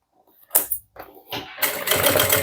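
A sewing machine stitches a handbag in short, close bursts of rapid mechanical chatter separated by brief pauses, then runs continuously and loud toward the end.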